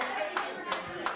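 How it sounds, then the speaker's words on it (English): Wedding guests clapping in a few scattered bursts, faint and brief, with voices murmuring underneath. "Give yourself a round of applause"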